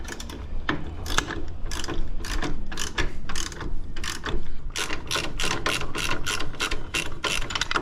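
Socket ratchet turning bolts on the floorboards of a Harley-Davidson Road Glide motorcycle: quick, close clicking pawl strokes in uneven bursts, sharp and loud throughout with no talk.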